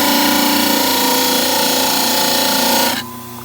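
A dental model trimmer grinds the posterior cut on a mandibular stone model, a steady loud whirring buzz that runs evenly for about three seconds before cutting off abruptly into a faint hum.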